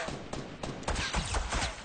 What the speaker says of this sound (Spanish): Me dispara uno con pistola.